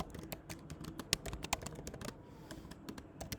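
Quick bursts of keystrokes on a computer keyboard while writing code, close and fairly quiet, with uneven clusters of taps and short pauses between them.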